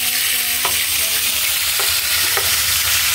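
Onions for chop suey hit a hot pan and stir-fry under a loud, continuous sizzle, with a few brief scraping strokes cutting through it.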